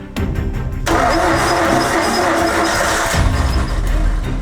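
A Nissan R32 Skyline engine cranks briefly, then catches and roars into a steady, loud run close by, its rumble settling into a rough idle.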